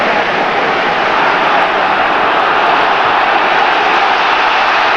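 A football stadium crowd at a 1999 Premier League match between West Ham and Leeds United roars in a loud, steady wash of noise that fills the whole moment without a break.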